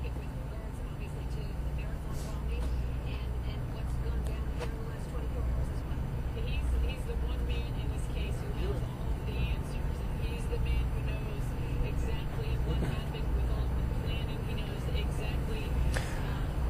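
Police vehicles pulling out of a car park during a manhunt in the Boston area, a steady traffic rumble with engines and passing cars continuous throughout, with voices talking over it.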